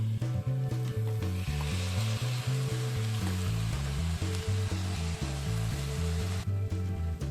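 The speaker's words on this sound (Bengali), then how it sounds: "2 থেকে 3 মিনিট সময় নিয়ে মিডিয়াম ফ্লেমে মশলার সাথে চালটাকে খানিকক্ষণ একটু নাড়াচাড়া করে নেব" Rice stir-fried with spices in a pan over a medium flame gives a steady, close sizzle throughout, with a melodic tune playing prominently underneath.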